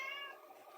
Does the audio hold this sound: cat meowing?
yes